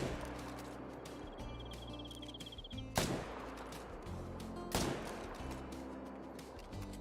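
Two separate gunshots ring out a couple of seconds apart in a hunting video game set in a Finland reserve while hunting red deer, each a sharp crack over a quiet, steady ambient background.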